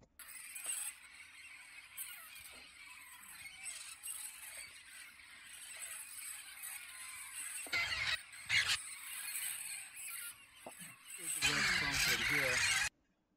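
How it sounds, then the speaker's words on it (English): Flock of parrots arriving to roost at dusk near Brownsville, South Texas, a dense, continuous wash of raucous squawks and chatter that swells loudest near the end, with a few brief dropouts. "which is where a lot of parrots come in to roost in the evening"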